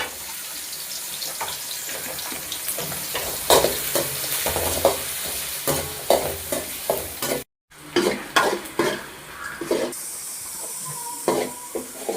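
Mustard seeds frying in a pan for a goat head curry, a constant close hiss and crackle with frequent scraping stirs and one brief cut to silence partway through.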